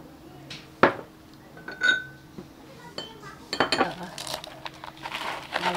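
Palabok sauce is stirred into pancit in a pan, with scattered clinks and scrapes of a utensil against metal and soft wet mixing sounds that grow busier toward the end, close and fairly quiet.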